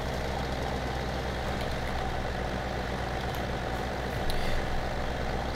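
A tractor engine in a farming game hums steadily nearby, a low continuous drone with a slight rise in loudness near the end, no voices over it.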